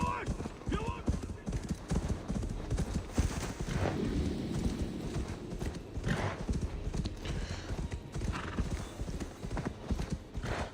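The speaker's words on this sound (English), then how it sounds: "Pues caballo y para adelante" Horse hooves clip-clopping at a steady riding gait in Assassin's Creed Valhalla, with occasional neighs and whinnies, heard over game music and ambience while someone talks in Spanish.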